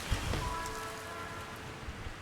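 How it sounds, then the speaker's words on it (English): Steady rain ambience from a video game, a dense continuous hiss of rainfall on surfaces with faint scattered drops, filling the background evenly with no voices. "I love having the ambience in the background too, like of the rain and everything"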